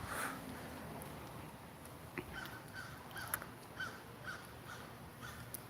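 Crow cawing outside, a series of short faint caws spaced across a few seconds over steady background hiss, no talking.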